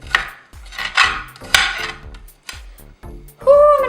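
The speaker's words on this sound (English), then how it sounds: "Start cutting it. And use about a half an onion." Half an onion chopped with a knife for gluten-free chili: a series of sharp, distinct knife strikes in an uneven rhythm, close and fairly loud, with no talking.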